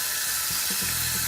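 Tap water runs steadily through an LED faucet light attachment, a loud, constant rushing hiss over the whole stretch with a faint mechanical whir underneath.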